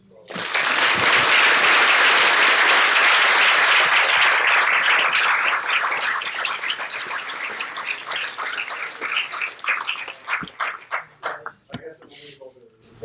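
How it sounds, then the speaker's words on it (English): Audience applause follows a talk on the psychology of psychedelics, a dense, loud wash of many hands that holds steady for several seconds, then thins into scattered, uneven claps as it tapers off. "Can I get a round of applause?"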